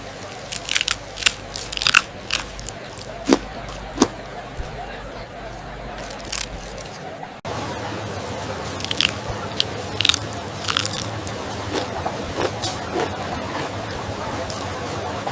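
Loud, close crunching bites and chewing of crispy grilled garlic-and-herb marinated prawns from open-flame skewers, repeated sharp cracks and crackles at an uneven rhythm, with no talking.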